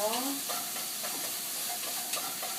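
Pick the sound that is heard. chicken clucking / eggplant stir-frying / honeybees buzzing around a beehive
eggplant stir-frying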